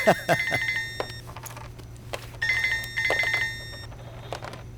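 A phone rings in repeated electronic bursts with a pause between them, while voices talk faintly in the background.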